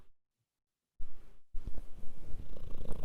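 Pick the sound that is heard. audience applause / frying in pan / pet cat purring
pet cat purring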